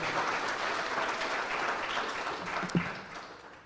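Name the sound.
audience applause for Dr. Barry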